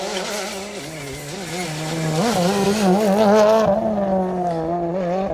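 Ford Fiesta WRC rally car on a Manx Rally stage, its engine note rasping and climbing through gear changes as it passes close by, loud and alone.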